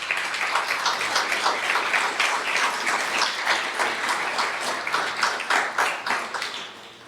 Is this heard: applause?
yes